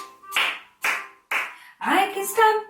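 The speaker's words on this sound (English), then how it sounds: "I can clap my hands" Hands clapping in a children's English lesson song, three sharp separate claps at a steady rhythm, then a sung voice takes over.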